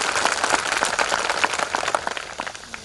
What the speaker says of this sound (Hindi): जरा ताली मार करके मेरे को बताएं कि कितने लोग यहाँ पर हैं